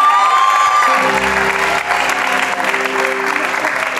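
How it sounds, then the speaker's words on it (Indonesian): Loud, steady applause from a studio audience for a guest on an Indonesian entertainment show, dense clapping filling the whole stretch with faint cheering and a few tonal notes mixed in. "Tepuk tangan buat Pia."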